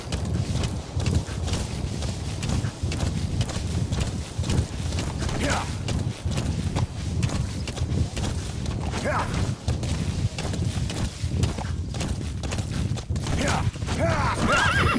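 Horse hooves clip-clopping in a steady galloping rhythm in Metal Gear Solid 5: The Phantom Pain, with a few whinnies breaking through and someone talking over the hoofbeats.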